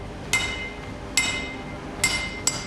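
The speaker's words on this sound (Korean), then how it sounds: "고온에서 붕사가 녹아 여러 겹의 쇠가 하나의 뭉치로 붙게 되면 망치질을 해서 더욱더 단단하게 만드는데요" Forge-welded layered steel for a kitchen knife is hammered in a small blacksmith shop: four sharp metallic strikes at uneven intervals, each ringing briefly over quiet room noise.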